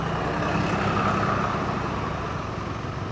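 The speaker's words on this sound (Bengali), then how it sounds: "ওরে বাবা, এ তো অনেক জ্যাম" Congested road traffic of trucks and cars at Farakka, a steady dense rumble of idling and crawling engines heard from above, with no voices.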